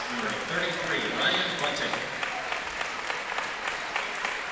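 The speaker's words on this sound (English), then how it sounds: "As the Westfield fans giving a round of applause." A crowd of fans at a high school girls' basketball sectional championship applauds steadily in a large gym, with an announcer's voice talking over the clapping throughout.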